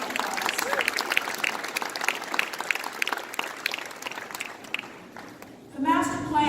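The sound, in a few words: audience applause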